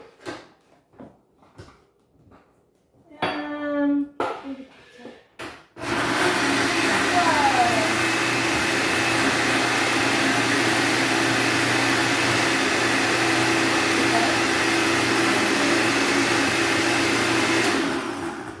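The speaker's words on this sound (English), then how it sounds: "We're gonna put all that in the blender and With put the lid on tightly." A blender runs steadily at high speed for about twelve seconds, whirring through sugar, water and lemon juice for an Israeli limonana drink, after a few clicks and handling noises and a brief spoken phrase.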